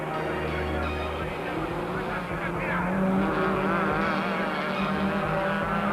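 Toyota Hilux super trucks of the Coetzee dealer team race in a 1997 super truck series, engines droning and shifting pitch at a distance, with a low rumble early on and a continuous mechanical whine throughout.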